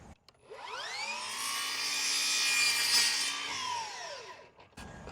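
A miter saw slices through wood molding in one continuous cut, the blade's whine rising as it spins up, holding steady and loud through the stroke, then winding down near the end with no talking.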